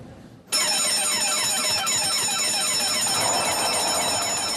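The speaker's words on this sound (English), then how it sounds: "with the automatic alarm ringing through the grounds" An automatic alarm rings through the grounds of a building where a Da Vinci painting was stolen, starting abruptly and continuing as a loud, steady electronic ringing with a repeating sweeping pattern, with no voices.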